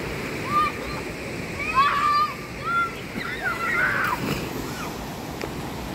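Constant splashing and rushing water at a waterfall, close and fairly loud, with people talking over it throughout.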